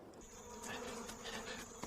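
A swarm of bees buzzes close by, a faint but steady droning hum with shifting tones and small surges, with no speech.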